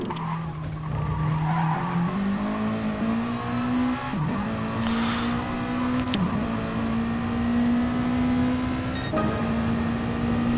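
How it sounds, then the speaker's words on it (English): Racing video game car lapping Suzuka, a steady high engine whine rising gradually through the gears, with brief tire squeals and shift blips along the way and no voices. "Let's actually jump on board with Fubuki and take you for a lap of Suzuka."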